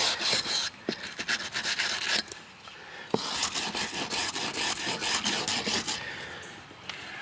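A stiff brush scrubs a weathered wooden deck in rhythmic back-and-forth strokes with a rasping sound, close and steady, broken by short pauses.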